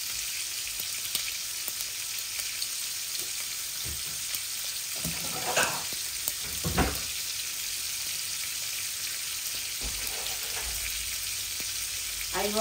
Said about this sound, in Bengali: আর এখানে হাঁড়িতে তেল দিয়ে দিচ্ছি পরিমাণ মতো। আর এখন শুধু জিরা আর তেজপাতা দিচ্ছি